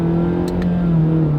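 Car with a CVT gearbox running in a simulated first gear, its engine holding a steady mid-pitched drone that climbs very gradually, close and loud, with no talking.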